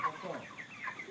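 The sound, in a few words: chickens clucking on a poultry farm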